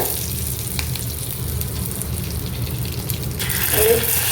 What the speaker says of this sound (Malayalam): പിന്നെ 2 ഡ്രൈ ചില്ലി, പിന്നെ അല്പം കറി ലീഫ് ഇട്ടിട്ടുണ്ട്. ഇതൊന്ന് മൂക്കുമ്പോൾ